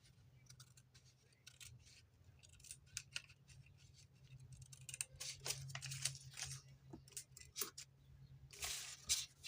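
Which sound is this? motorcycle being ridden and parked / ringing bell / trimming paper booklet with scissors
trimming paper booklet with scissors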